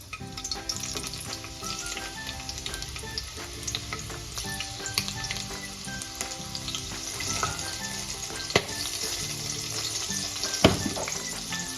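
Long-sliced green chillies frying in hot oil, a close crackling sizzle with scattered pops and a few sharper spits, heard on its own.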